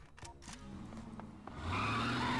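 Vans tearing away in Max Payne 2, tyres squealing in a rising skid as engines roar louder toward the end, with a few sharp knocks early on.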